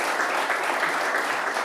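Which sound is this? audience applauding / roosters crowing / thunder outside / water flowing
audience applauding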